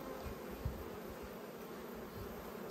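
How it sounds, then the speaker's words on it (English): A crowded honey bee hive in an Australian backyard apiary hums with a faint, steady, continuous buzzing of many bees. "A massive amount of bees in here"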